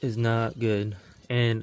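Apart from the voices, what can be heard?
No everyday noise stands out behind the speech.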